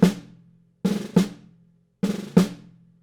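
A snare drum plays drag rudiments with long spacing between the grace notes, giving three distinct groups of two or three crisp buzzing strokes, each ending on an accented hit that rings out briefly, close and clear.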